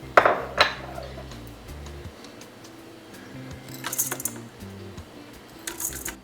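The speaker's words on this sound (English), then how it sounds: "then I'm going to add my brown sugar. I'm gonna have to scoop it in." A spoon clinks and taps against a mixing bowl while scooping brown sugar over white sugar for pumpkin chocolate chip cookies, giving a few sharp, scattered knocks over a low steady hum.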